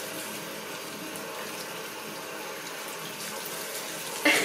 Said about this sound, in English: See, I'm really getting him wet now